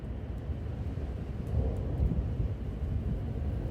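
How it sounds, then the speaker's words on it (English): Strong wind roars through a supercell thunderstorm with lightning, a steady broad rumbling rush that swells midway, fairly faint overall and with no talk. "I can hear the wind."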